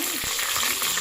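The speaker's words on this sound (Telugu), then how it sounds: "ఆనియన్ పచ్చిమిరపకాయలు వేస్తాను. అది కొద్దిగా ఫ్రై అవ్వనివ్వండి." Onion, green chillies and asafoetida fry in a little hot oil in a pot while making egg masala, giving a steady close sizzle with a faint stir.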